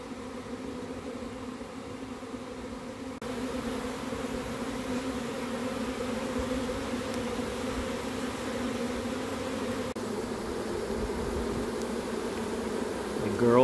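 Honeybee swarm gathering on a branch outdoors, a dense continuous buzz of many bees fanning, steady and close throughout and growing slightly louder near the end.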